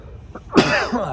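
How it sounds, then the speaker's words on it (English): A single sharp adult sneeze bursts out after a quiet breath-in, loud and close, followed by a brief trailing exhale and murmur. "I gotta sneeze."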